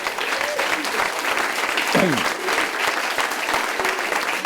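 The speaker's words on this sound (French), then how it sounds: "je demande qu'on l'applaudisse" Dense, loud applause from a party audience at a cdH political speech, clapping for a woman named Céline; the steady roar holds evenly for the whole stretch, with a brief voice rising out of it midway.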